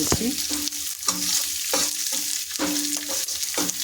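Onion and curry leaves fry in a pan, a constant sizzle broken by repeated scraping strokes of a spoon at a loose, regular rhythm, close and fairly loud with no voices.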